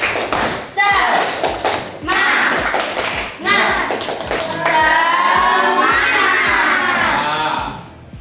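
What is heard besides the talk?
class doing a rhythmic clapping cheer (tepuk semangat)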